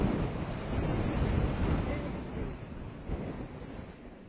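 High-tide sea waves surge against the Mumbai coast on a rainy day. Broad, washing surf rises and falls, partly masked by heavy wind buffeting on the microphone.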